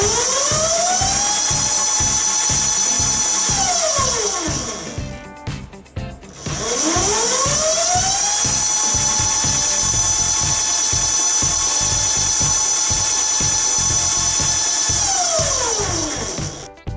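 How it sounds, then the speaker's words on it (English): Electric scooter motor spinning on a 24-volt e-bike charger, a loud steady high-pitched whine that rises and falls in pitch as it spins up and down, twice, with a brief drop in the middle. "So I put it to 24 volts to check the motor. And the good news about all of this is that the motor is working very well."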